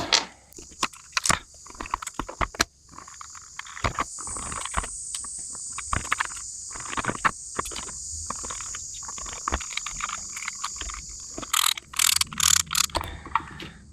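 Four Phillips head screws driven by hand into the plastic shell of a micro-flywheel, magazine-fed toy blaster, giving clusters of small ratcheting clicks and scraping turns that come in quick bursts, close and fairly quiet, with no voices.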